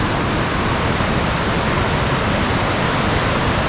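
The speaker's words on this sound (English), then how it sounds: "Just to look at the whitewater coming down this river." A loud, unbroken torrent of whitewater pours down a river near Lake Manapori in New Zealand, its thick hiss holding an even level throughout with nothing else audible.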